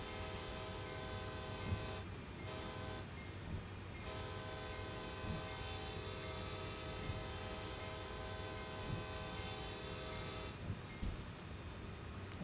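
A train runs in Train Sim World 3 with a continuous, loud rumble and rolling noise throughout, plus sustained horn-like tones, with no talking.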